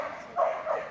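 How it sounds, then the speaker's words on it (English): A large agility dog barks in short, loud bursts, two quick woofs close together against a hazy arena background. "When they're barking so loud"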